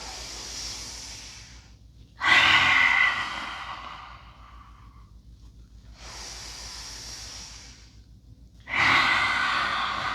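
Deep yoga breathing: two long, loud inhale-exhale cycles, each breath a strong airy rush, heard close and alone.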